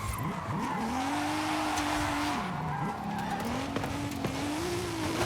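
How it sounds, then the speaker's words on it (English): Tires squeal and slide in Forza Horizon as a wide-tired race car drifts during a cross-country event, a sustained wavering screech over the loud steady engine roar. "We have really wide tires on this too, and I can't believe we were sliding like that."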